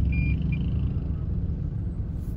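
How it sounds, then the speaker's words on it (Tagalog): Many vehicles pass on a national highway, producing a steady, loud, low road rumble with the drone of engines continuing throughout and no talk. "At marami sasakyan."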